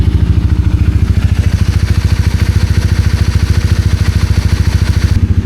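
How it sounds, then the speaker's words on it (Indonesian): A motorcycle engine runs loud and close during a solo ride in Sabah, Malaysia, with a steady, fast, even throb of idling firing pulses and no speech. "untuk suara mesin"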